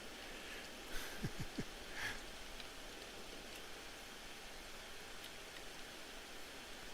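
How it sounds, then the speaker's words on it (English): Soft, steady rain falls in the shooter game Escape from Tarkov as a faint, even hiss, with a few brief clicks early on and no talking. "but now it's raining, so they won't hear me either"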